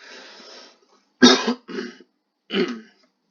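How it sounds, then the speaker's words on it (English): A single sharp cough, followed by two shorter throat-clearing coughs, close and loud against otherwise quiet air after a brief murmur. "pardon my cough"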